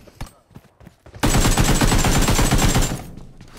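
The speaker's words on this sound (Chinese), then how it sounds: "背后刚才是有枪声吗？" Rapid automatic gunfire in PUBG Mobile, a loud close burst of dense shots lasting about two seconds after faint game noise and a few quiet taps.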